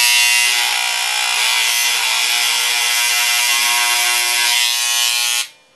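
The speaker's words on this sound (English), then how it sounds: "sometimes you might want to mark them carefully with one of these engraving tools." A Dremel engraving tool marks a CD with a loud, steady high-pitched buzzing whine that runs continuously for about five seconds, then cuts off abruptly; nobody speaks.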